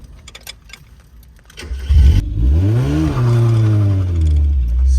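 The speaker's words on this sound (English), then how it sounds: "In first, rev the piss out of it, dump the clutch," Stance car in first gear revved hard, then the clutch dumped so the wheels break loose: a short idle clatter, then a loud rising engine howl with a swooping pitch, holding a strong roar to the end, close by.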